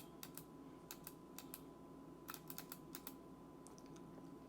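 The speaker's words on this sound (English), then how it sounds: "Now, yeah, it's typing." Keystrokes on a mechanical keyboard built into an iPhone case with a braille layout, a quiet scattering of light clicks in uneven bursts over a faint steady background hum.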